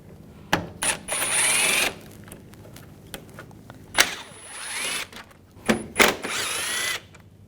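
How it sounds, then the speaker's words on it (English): A power drill with a T30 socket spins out screws on the front of a 2004-2009 Audi A4 Quattro, in several short close whirring bursts with pauses and small clicks between them. "We're going to remove these screws. Use a T30 socket."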